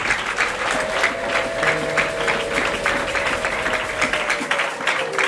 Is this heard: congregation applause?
yes